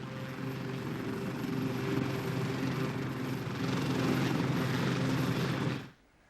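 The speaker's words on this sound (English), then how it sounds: "So dangerous that many routine army movements have to be by helicopter." An army helicopter flies over rural border country, its rotor chopping in a steady, moderately distant drone that holds level before cutting off abruptly at the end.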